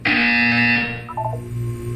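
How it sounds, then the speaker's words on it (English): A loud, sustained electronic buzzer from the video game Portal 2 sounds for about a second, then drops to a lower hum with a few short stepped tones trailing off. "You will hear a buzzer."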